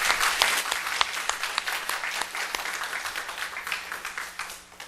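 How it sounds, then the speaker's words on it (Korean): A church congregation claps for the choir: sustained, fairly even applause from many hands that gradually thins and fades toward the close. "우리 성가대 연들어서 어디 격려의 박수 한번 더 쳐주시기 바랍니다."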